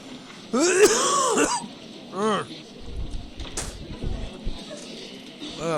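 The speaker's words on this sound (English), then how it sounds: "Sorry for all the coughs" Coughing and throat clearing from someone suffering throat allergies, several harsh close bursts with short pauses between them, set against quiet background.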